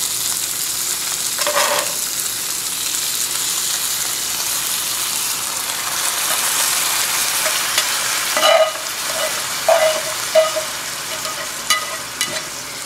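Onion mixture going onto potatoes in a frying pan for a frittata, giving a steady sizzle with a few louder scrapes and stirs near the end.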